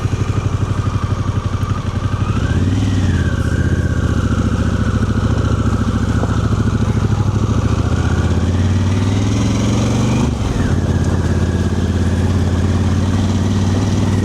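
A Harley-Davidson Pan America motorcycle rides in off-road mode over gravel, its engine a steady, loud, close drone with a brief rise in revs near the start and a shift around the ten-second mark.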